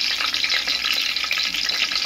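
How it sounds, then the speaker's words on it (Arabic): Ground cardamom and cloves fry in a hot pan with a loud, continuous, dense sizzle and crackle, close up and without any voices. "احنا كده نحط شوية حبهان مطحون"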